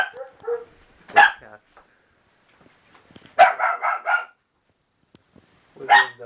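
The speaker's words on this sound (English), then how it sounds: "Lots of little doggies." Small dogs bark in separate bursts: a single sharp bark, then a quick run of several yaps, then another bark near the end, with quiet gaps between.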